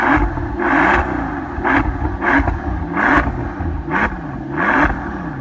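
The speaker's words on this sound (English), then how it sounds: "It literally sounds like a supercar." A golden BMW E60 M5 revs hard and close, its engine rising and falling through several throttle blips over a steady, loud idle roar.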